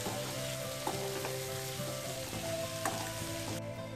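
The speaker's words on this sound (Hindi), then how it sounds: "चने की दाल डालने के बाद हमने करीब 1 मिनट तक इसको हिला लिया अच्छे से और मिक्स कर लिया है" Chana dal being stirred through a raw mango (keri) curry in a pan, giving a steady close sizzle and frying hiss with a few soft scraping stirs, no voices.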